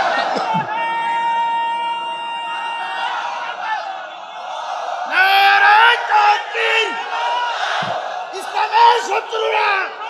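Crowd at an outdoor Islamic rally in Chuadanga roaring a takbir chant in response to a preacher, a loud massed swell of shouting voices rising after his call and then fading.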